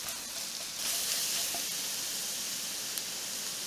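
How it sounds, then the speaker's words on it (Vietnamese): Minced garlic fries in leftover fat in a pan, producing a steady, moderately loud hissing sizzle that holds evenly with only faint crackles and no speech. "Còn lại mỡ trong chảo thì mình cho tỏi băm vào phi lên."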